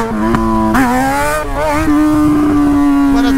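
A Yamaha XJ6 motorcycle engine revs up and down close by, its note rising and falling in a few quick blips before settling into a steady high idle, loud and without speech.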